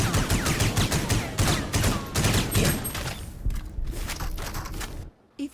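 Rapid bursts of automatic gunfire ring out in a video game, a dense near fusillade that thins into scattered shots before a sudden drop to quiet at the end.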